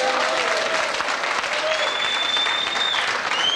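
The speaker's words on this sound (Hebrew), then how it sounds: "קבלו במחיאות כפיים את הרכש" A crowd at an evening party event applauds to welcome a host, continuous close clapping at a steady level with a few whistles and cheers over it.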